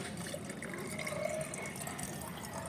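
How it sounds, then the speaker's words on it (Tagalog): Water pours into a container for a dragon's tail plant, a soft continuous trickle and gurgle, faint and close, with no talk. "Ilagay na po natin ang tubig"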